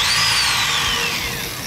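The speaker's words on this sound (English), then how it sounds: "we're drilling into the hardtop so that we can install a Rhino-Rack backbone system." A power drill bores into a vehicle hardtop for a roof rack install, a loud whine that rises and then slowly falls in pitch as it cuts, close up and alone.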